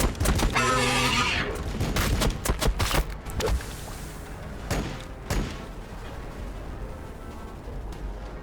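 Tech Marine gunfire in Warhammer 40,000: Battlesector: several sharp, loud shot bursts in a cluster, then a few isolated cracks, after an opening high alien screech.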